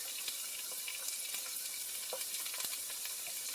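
Hot oil sizzling and popping in a pan of Spanish saffron paella with chicken, sausage and shrimp, a dense steady fry with sharp crackling spits scattered throughout, close and alone.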